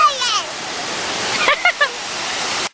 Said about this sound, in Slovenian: Na slapu smo